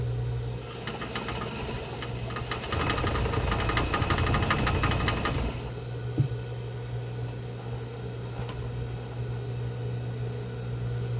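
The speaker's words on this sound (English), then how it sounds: "then you're going to sew, and you're going to sew 1/4 of an inch seam allowance" A sewing machine stitches a quarter-inch seam on a box-style fabric face mask, a steady nearby hum that grows louder and busier in a burst midway before settling back to a quieter whir.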